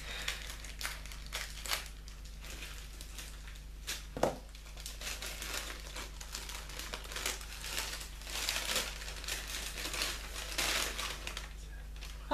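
Paper crinkling and tearing as a gift is unwrapped, with a sharp rip near the middle and continuous rustling throughout, close up.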